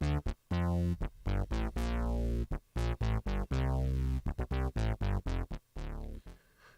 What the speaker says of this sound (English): what you hear now is like the sequencer in the analog synth that is